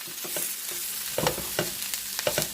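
Broccoli and onions stir-fried in a hot pan for a vegan broccoli beef, with a steady sizzle broken by repeated scraping, tossing bursts of the spatula close by, no voices.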